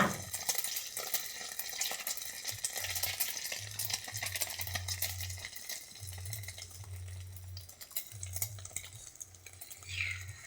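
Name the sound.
egg-dipped soybean chops frying in hot oil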